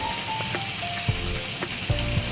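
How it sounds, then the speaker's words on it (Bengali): Onion and tomato fry in oil in a wok, giving a constant close sizzle with a few louder scrapes and thumps of stirring, and no voices. "এবারে কড়াইতে পেঁয়াজ টমেটো দিয়ে ভাজছি"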